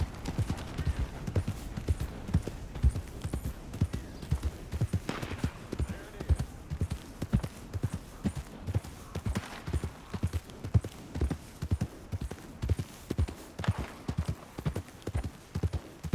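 Steady, continuous clip-clop of a horse's hooves at a walking-to-trotting pace in Red Dead Redemption 2, close and fairly loud throughout with no talk over it.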